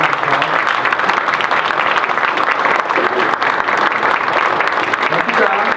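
Loud, continuous applause from an audience at a university archives ceremony, a dense wash of many hands clapping close and steady throughout, with faint voices mixed in.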